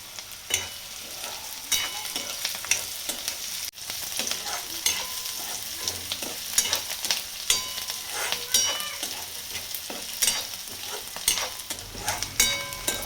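Roasted peanuts are stirred into onion and green chilli frying in oil for kanda poha, producing continuous sizzling with frequent clattering knocks of a spatula against the pan.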